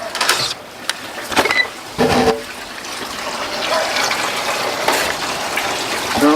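Water rushing into a duck pond as a valve is opened, a steady broadband gush that swells and holds over several seconds with a few sharper splashy bursts near the start.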